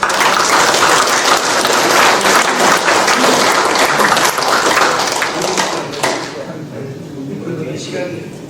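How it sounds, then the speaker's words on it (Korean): Dense, sustained audience applause at a military academy alumni reunion ceremony honouring the members' wives, a hall full of clapping that thins and fades toward the end. "우리 사모님들에서 박수 한번 치고."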